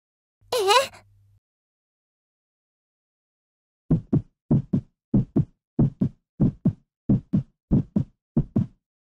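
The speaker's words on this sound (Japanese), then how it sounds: "心臓の音やばい。" A heartbeat effect from the Sakura School Simulator video game thumps in a steady double-beat rhythm, about a dozen loud, close beats, after a brief vocal sound and a pause.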